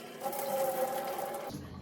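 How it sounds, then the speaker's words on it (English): Starchy soaking water pours out of a bowl of cut potato chips into a sink, a steady close splashing stream for about a second and a half that then cuts off. "you want to dump that out and then do a fresh batch"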